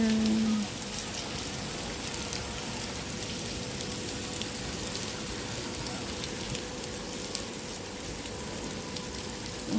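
Steady rain falls in Cyprus, a dense, even hiss of drops on surfaces that holds at the same level throughout, close and continuous, with no voices.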